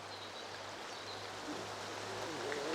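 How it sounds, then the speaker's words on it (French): Water of the Saint-Antoine river running down in cascades, a steady broadband rush that holds close and even throughout, with a faint low hum underneath and no voices. "cette eau qui court en cascade nous rappelle que l'eau comme la vie est précieuse"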